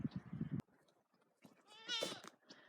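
A goat bleats once, quavering and fairly faint, after a short burst of rustling and low noise. The sound is outdoors, with quiet stretches around the call.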